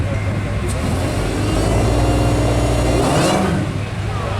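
At the Brighton Speed Trials, a car pulls away from a standstill with a loud, close engine drone that builds and holds, then eases near the end, while people talk over it.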